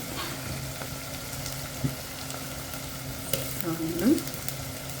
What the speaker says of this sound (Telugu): అల్లం వెల్లిపాయ పేస్ట్ కొంచెం పచ్చి వాసన పోయేంత వరకు వేయించుకోవాలి